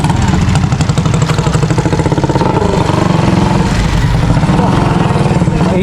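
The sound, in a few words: motorcycle engine passing on the street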